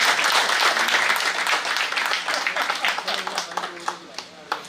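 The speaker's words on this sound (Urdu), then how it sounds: "میں آپ سب لوگوں سے کہوں گا کہ ہمارے ان ساتھیوں کے لیے زوردار تالیاں ہو جائیں" A crowd at an evening event honoring teachers breaks into loud, dense applause for group colleagues, the clapping sustained at first and then thinning into scattered claps.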